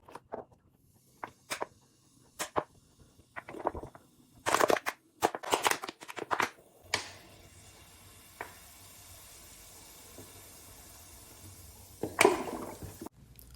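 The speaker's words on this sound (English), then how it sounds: "We're gonna pour it slowly inside the bottle until we see some bubbles." Vinegar is poured into a bottle holding baking soda, setting off bursts of crackling fizz and bubbling among sharp pouring and handling noises, then a quieter steady hiss of bubbles close by.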